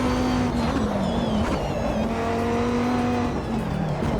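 Race car engine in a racing simulator game played on a Simagic Alpha EVO Pro wheel, holding a steady loud drone with slight pitch shifts and brief dips as the car drives, continuous for the whole stretch with no talking.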